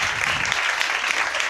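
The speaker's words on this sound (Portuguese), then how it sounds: "Pessoal, então uma salva de palmas no nosso aprovado." A brief burst of group clapping for a student who passed a civil service exam, dense and even, lasting only a moment.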